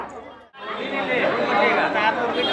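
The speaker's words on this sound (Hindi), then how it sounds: "रामेश्वरम में आज भीड़ बहुत है क्योंकि छुट्टी का दिन है" A holiday crowd at Rameshwaram fills the air with dense overlapping chatter and babble, close and loud, after a brief quiet moment at the start.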